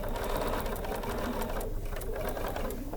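Sewing machine stitching curved quilt pieces at a quarter-inch seam, a steady close whirring hum running the full length without pause.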